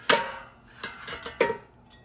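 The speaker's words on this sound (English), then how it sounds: "So let's put the pan in the air fryer." A metal pan set into an air fryer basket, a few short clanks and knocks: a sharp clink, a softer scrape, then another bright metallic tap, close and alone.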